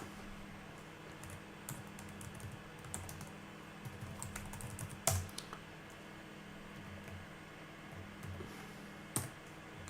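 Computer keyboard keys are typed at a quick, uneven pace while entering terminal commands, close and fairly quiet, with a couple of louder clacks standing out over soft room hum.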